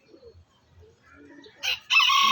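A champion gamecock rooster crows loud and close, its call rising after a few soft clucks and low murmurs at the start.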